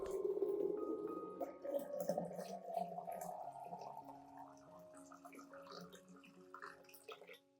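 Clean water being poured into a container to dilute a garlic solution, a soft continuous stream of splashing and trickling that tapers into drips, faint and close.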